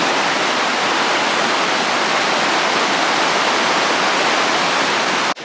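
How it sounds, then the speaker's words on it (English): A creek rushes beside a hiking trail near Gatlinburg, a loud, close, constant broadband wash of flowing water that holds steady with no voices before cutting off at the very end. "Get to hear the water, hear the creek, and it's just so stunning."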